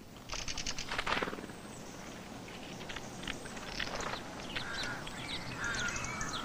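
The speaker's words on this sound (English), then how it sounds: "You often hear their distinctive rasping call," Mistle thrush giving its harsh rasping call in a series of dry, scratchy bursts, loudest near the start and then repeated more softly, over quiet outdoor ambience.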